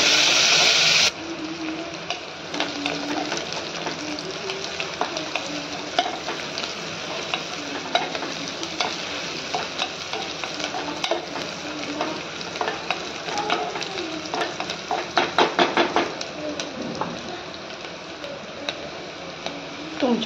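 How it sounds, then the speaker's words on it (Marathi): Chopped onion sizzles and crackles in hot oil in a pan after mustard seeds, for a spiced rice dish, with steady frying hiss and repeated scraping stirs, a burst of clattering stirring near the end, no talk. "मोहरी छान भाजली की त्यात कांदा घालून घेऊयात. कांदा छान गोल्डन ब्राऊन होईपर्यंत परतून घेऊयात."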